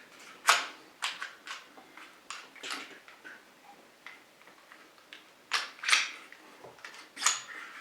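Metal pistol slide drawn back along the frame rails, a run of sharp mechanical clicks and clacks, close and fairly loud, arriving in irregular bursts with short pauses between.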